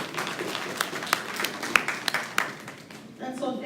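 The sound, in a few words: audience applause for the schools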